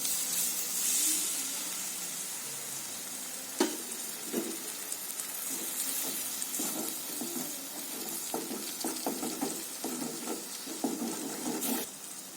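Eggs frying in oil in a pan for an egg masala fry, a steady close sizzle with bursts of crackling and popping spread throughout, no voices.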